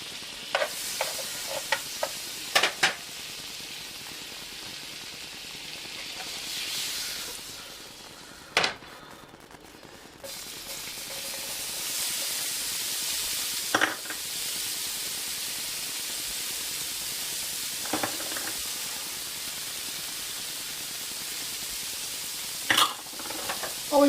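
Onion frying in butter in a pan gives a steady, close sizzle throughout, with occasional sharp clinks and scrapes of stirring, and no talking.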